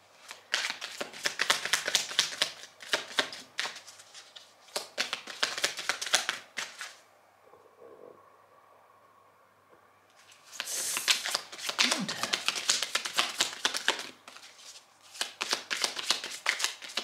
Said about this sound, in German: Und jetzt geht's los ans Mischen.